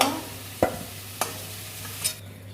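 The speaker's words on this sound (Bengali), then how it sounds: "আলুগুলো লাল লাল করে ভাজা হয়ে গেছে" Potatoes frying in hot oil in a wok, a steady sizzling hiss broken by three or four sharp scrapes and clacks of stirring, close up with no voices.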